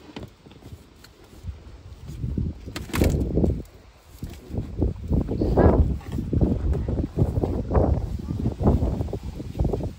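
Wind gusting outdoors by the water during a test of a Quicksilver inflatable boat, rushing and buffeting the microphone in loud waves while voices talk over it.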